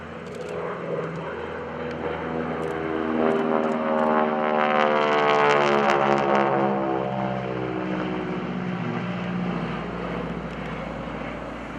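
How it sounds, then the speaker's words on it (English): A North American AT-6 Texan makes a photo pass at an airshow, its radial engine and propeller drone swelling as it approaches and then fading with a falling pitch as it passes by. "From the right on a photo pass, everybody, the North American AT-6, Kevin Russo and Ed Nagle"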